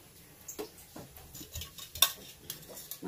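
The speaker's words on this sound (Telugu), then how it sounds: "ఇలాగా గిన్నె పెట్టుకుని" A cooking pot clinks onto a stove while making a gourd pulusu, with soft scattered metallic knocks and clatters close by in a quiet kitchen.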